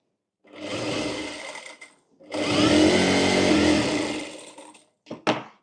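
Electric sewing machine stitching the side seam of a blouse, running in two loud continuous bursts with a pause between, then a couple of short whirring starts at the end.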